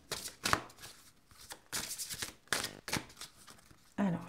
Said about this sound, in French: je prends une carte de l'oracle de Gaïa